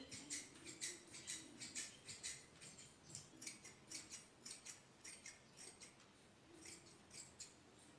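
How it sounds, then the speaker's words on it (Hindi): Scissors snip through fabric while a kurta is cut out, giving a steady run of crisp, close cutting strokes in a regular rhythm with no talking. "सेम ये यहाँ से हमें काट लेना है, बिल्कुल ऐसे ही"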